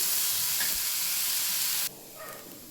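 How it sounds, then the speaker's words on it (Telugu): Chopped onions fry in hot oil in a pan with a loud, steady sizzle and hiss close by. About two seconds in, the hiss drops suddenly to a softer crackle, as if the heat were lowered or the pan stirred. "మంచిగా రెడ్గా అయ్యేంత వరకు వేయించుకోవాలి."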